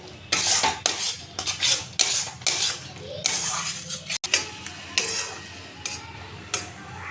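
A spoon scrapes and clinks against a pan in an uneven rhythm as a powdered milk mixture for mango kalakand is stirred, with close, bright metallic taps.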